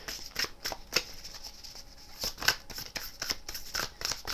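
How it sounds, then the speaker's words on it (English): Tarot cards being shuffled by hand, a series of crisp riffling snaps and paper flutters in uneven bursts, close and fairly quiet, with no talking. "let's just give this one last little shuffle"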